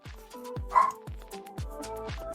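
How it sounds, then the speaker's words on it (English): A dog barking in short, sharp yips, about six of them in a quick irregular run, fairly close and fairly quiet, with a brief whine in the middle. "I don't know what's up with my dog tonight."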